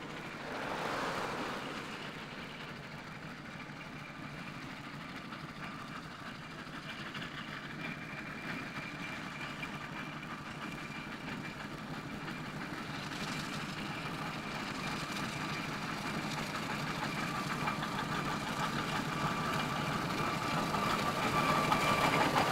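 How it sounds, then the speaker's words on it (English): A Burrell Showman's steam traction engine, King George VI, travels along a road, its low steady rumble and chuffing growing gradually louder as it draws nearer over some twenty seconds. "Burrell Showman's engine, King George VI, also makes progress away from Horton."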